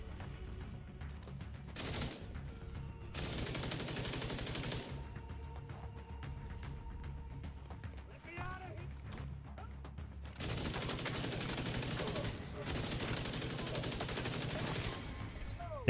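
Gunfire in a multiplayer shooter video game, dense sustained bursts of rapid automatic shots in long loud stretches broken by shorter gaps, with a voice speaking faintly beneath the shooting.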